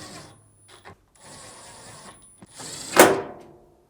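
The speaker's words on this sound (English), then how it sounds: "and reinstall the 4 screws." Screws being driven back into the control panel of a Samsung dryer: soft mechanical whirring and clicks from a driver, ending in one sharp, loud clatter near the close, with no talking.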